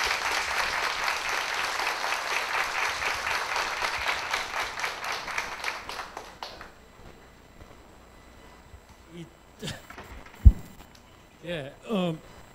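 An audience claps warmly to welcome the minister at a policy talk event; thick applause fills the first six seconds, then fades into quiet with scattered voices and small noises.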